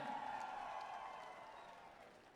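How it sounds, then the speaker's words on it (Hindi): A large political rally crowd in Haryana claps to honour Mayawati on stage, giving a broad sustained applause with a faint tonal hum over it, gradually fading away toward the end. "जोरदार तालियों से आप इनका अभिनंदन करें"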